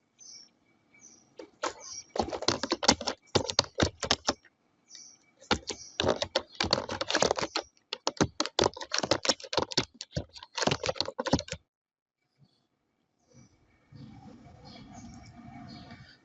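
Typing on a computer keyboard while filling in an online scholarship form: bursts of rapid, close key clicks broken by short pauses, then quieter rustling near the end.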